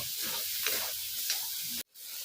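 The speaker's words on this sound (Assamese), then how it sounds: "মই এয়া পিঁয়াজ আৰু নহৰু কাঢ়াকৈ ভাজি ল'লোঁ।" Onion and garlic frying in a pan, a steady close broadband sizzle with a few louder stirring scrapes, cutting off abruptly near the end before resuming.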